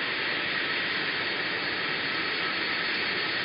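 A jet airliner at Sion airport gives a steady, loud, broadband roar that holds evenly throughout, with no voices.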